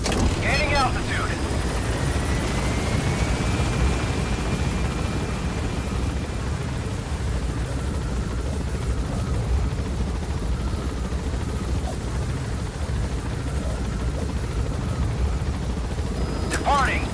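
A helicopter lifts off in the video game Metal Gear Solid V. Its rotor drone is steady and loud throughout, with brief electronic chirps near the start and end.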